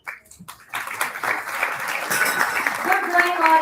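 An audience at a school awards ceremony breaks into applause after a brief pause, clapping swelling quickly and continuing steadily and fairly loud, with a voice faintly present beneath.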